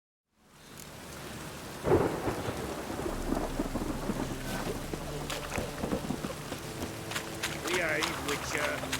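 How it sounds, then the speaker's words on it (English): A thunderstorm in the video game The Witcher 3 Wild Hunt: a sharp thunderclap breaks early, then heavy rain hisses steadily with low rumbling throughout. "A storm, damn it."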